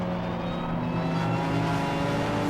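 Pre-1983 touring cars racing at Silverstone, a steady engine roar with shifting harmonic whine as the cars pass, loud and continuous with no voices.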